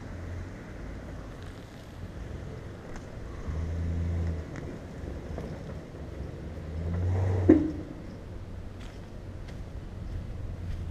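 A four-wheel-drive vehicle revs with its wheels spinning: a low, rough engine rumble swells twice, the second surge sharper, under steady wind noise, with no voices.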